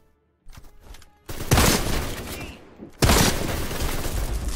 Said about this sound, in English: Quatermain, shoot the ceiling!